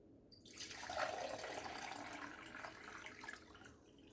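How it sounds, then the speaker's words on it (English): Water pours and trickles into a water clock, a soft continuous splashing flow that swells after a brief start and holds steady, fairly faint and close. "First, I have here a water clock."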